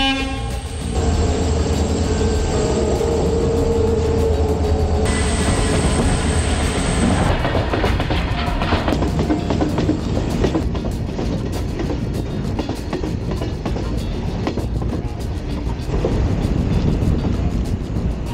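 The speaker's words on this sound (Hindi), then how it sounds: "12:15 हुआ है, शायद ट्रेन आ रही है अब।" Train passing on a railway line through forest near Dudhsagar Waterfall in Goa during the monsoon, with a loud horn blast followed by a long, close, continuous rumble and rhythmic clatter of wagons over the track.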